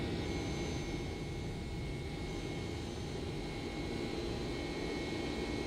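The jet engines of a FlightFactor Boeing 767-300 in X-Plane 10 give a steady, broad roar and whine. The drone holds at an even level, with no voices.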